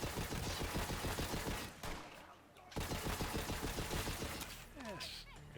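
Rapid machine gun bursts in the video game Borderlands 3, loud and dense with a brief pause between volleys and a talking voice mixed in.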